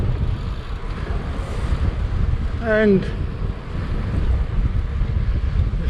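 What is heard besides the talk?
strong wind by the sea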